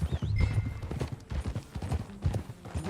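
Horse hooves clip-clop steadily on the ground in Red Dead Redemption 2 while John Marston rides, a close, even rhythm of hoof strikes with a faint whinny-like tone near the start.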